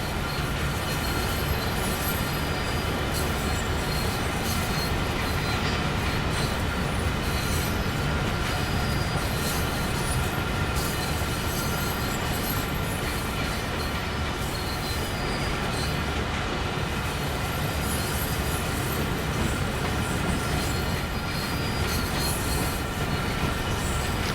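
A freight train on the 1970s Clinchfield railroad in Train Sim World 2 rolls steadily and loudly throughout, with continuous wheel rumble, rhythmic clacking over rail joints and occasional metallic squeals.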